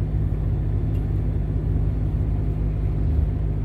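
Inside a car driving on the road near Noyabrsk, a steady low engine and road rumble fills the cabin, loud and unbroken, with no one talking.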